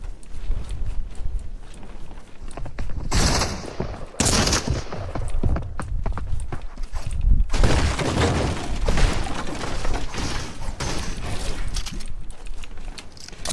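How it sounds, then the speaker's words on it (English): Bursts of suppressed SMG fire crackle in a Fortnite match, with rapid muffled shots in clusters over continuous game ambience, fairly close and steady. "suppressed SMG"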